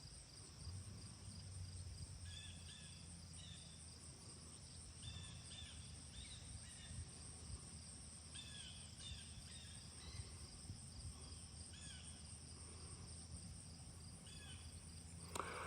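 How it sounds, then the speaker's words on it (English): Crickets chirp in repeated bursts with faint bird calls at a quiet outdoor wildcat sanctuary, a steady soft insect drone filling the background with no talking. "listening to the birds sing and the crickets chirp"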